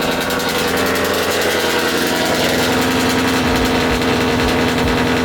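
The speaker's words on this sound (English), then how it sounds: "I know a lot of you guys follow me just to hear the Mustang" A Ford Mustang engine runs steadily and loudly close by, a continuous throaty rumble with no talk over it.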